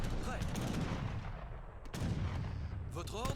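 Mortar blasts and gunfire in the real-time strategy game Age of Empires III, a dense continuous battle din with booming impacts and crackling shots, layered with faint chirping effects.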